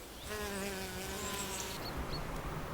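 Hornets buzzing at their nest, with a dense steady drone of many wings that holds close and constant while individual insects rise and fall in pitch.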